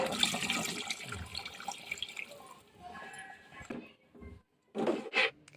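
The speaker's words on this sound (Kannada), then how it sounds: "ಇವಾಗ ಸ್ವಲ್ಪ ನೀರು ಸೇರಿಸ್ತಾ ಇದ್ದೀನಿ ನಾನು" Water splashes and pours in short bursts into a pan of pepper chicken gravy masala, with gurgling, dripping, and a pause of near silence between pours.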